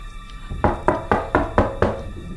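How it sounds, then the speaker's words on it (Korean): Five firm knocks on a door, evenly spaced and close, a steady rap-rap-rap rhythm against a quiet background, heard alone with no voices. "누군가 노크를 하는 소리가 들렸대."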